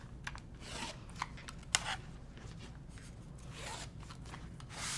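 Quiet rotary cutter strokes slice quilt fabric along a 6.5 by 12.5 inch ruler, soft scraping passes and small ticks close by, with no talking.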